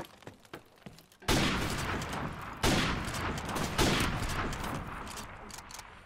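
Video game sniper rifle fire in a cage match: after quiet opening clicks, a loud sharp shot bursts out, then a second crack and a third a bit later, each trailing into a sustained rumbling echo.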